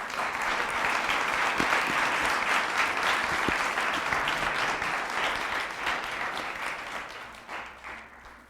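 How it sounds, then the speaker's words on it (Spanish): Sustained applause from a church congregation at a Sunday service, a dense wash of many hands clapping that holds steady and then slowly tapers off near the end, with no talking over it. "Dale un fuerte aplauso."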